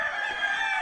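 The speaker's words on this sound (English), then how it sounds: "Are these your chicken?" A kampong chicken crows loud and close in a single sustained cock-a-doodle-doo near a longhouse, with no talk over it.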